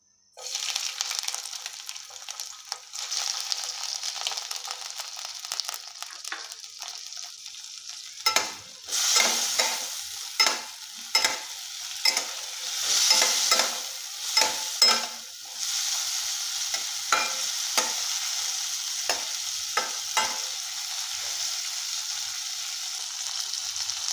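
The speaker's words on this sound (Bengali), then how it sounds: "তেল গরম হয়ে গেছে এবারে চিংড়ি মাছগুলো ভাজার জন্য দিয়ে দেবো" Shrimp frying in hot oil in a home kitchen, a steady close sizzle that swells midway into loud repeated crackling bursts as the pieces are stirred and turned, with no talk.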